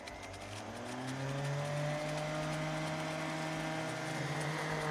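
A kitchen mixer whirs through a mustard mixture, a steady loud motor hum with rising and falling tonal bands, held continuously and close with no talking.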